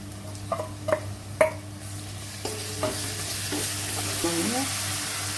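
Tomatoes tossed into golden fried onions for a Kathiyawadi green pigeon pea dal, with several sharp clinks and scrapes of a spoon against the pot over a low, steady sizzle.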